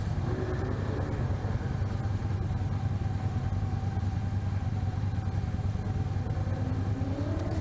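Ford Mustang engine revving on the road nearby to the left of a rider, a low rumbling drone that swells slightly, heard over steady traffic and road noise with no talk.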